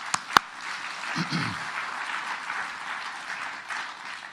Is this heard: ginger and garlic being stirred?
no